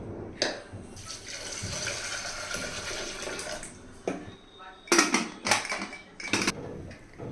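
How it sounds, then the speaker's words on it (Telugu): Toor dal being washed in water: steady sloshing and swishing for several seconds, then a few sharper splashing bursts near the end, close by. "ఈ పప్పు శుభ్రంగా కడిగేసి రెండు మూడు సార్లు నీళ్లు పోసి ఒక గంట ముందు నానబెట్టాలి"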